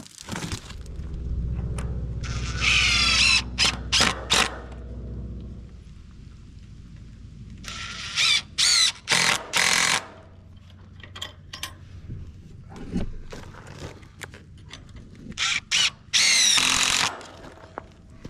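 A power drill drives screws outdoors while an Alaska garden is being built, heard as several loud, close whirring bursts of a few seconds each, separated by quieter stretches of background noise.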